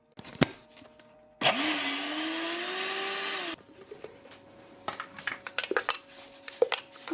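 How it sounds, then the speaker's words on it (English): A spoon stirs a thick, fluffy mixture in a jar, giving clinks and a scraping swirl that runs for a couple of seconds, then scattered lighter taps and clatters up close. "put a spoon in and give it a little move around"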